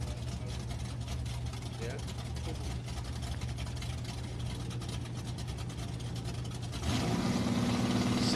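Muscle cars at a drag strip, a Buick GS and an Oldsmobile, rumble steadily at idle throughout, with a louder engine roar swelling near the end, heard under crowd noise and talk.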